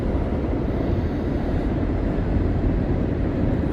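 A train rumbles past nearby, a continuous loud low roar with dense broadband rattle and no pauses.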